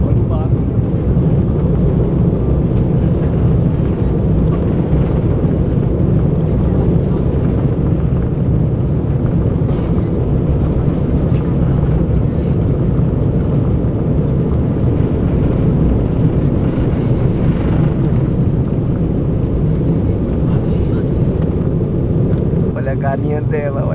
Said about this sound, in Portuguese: Agora vai decolar. Olha o barulho.